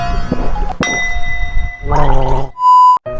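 Someone rinses their mouth with water after drinking Taiwanese Tao Kae Noi milk tea. Short, close gurgling bursts are broken by tonal sounds and a bright ding-like tone near the end.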